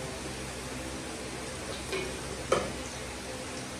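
Garlic browning in sesame oil sizzles steadily and softly at close range, with a couple of brief clinks or scrapes from stirring.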